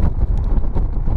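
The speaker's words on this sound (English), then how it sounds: "Wind." Wind blowing hard across the microphone on an open hillside wild camp on the Scales route to Blencathra, a loud continuous buffeting rumble with brief gusty surges.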